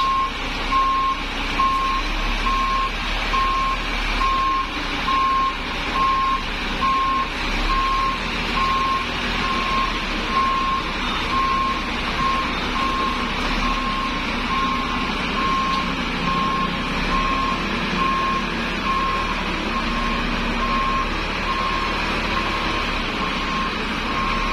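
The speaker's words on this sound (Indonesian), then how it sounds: "Ini Mas Angga mau parkir dulu" A truck's reversing beeper sounds as the vehicle parks at an Indonesian petrol station: a steady, regular beep repeats throughout over a constant engine hum.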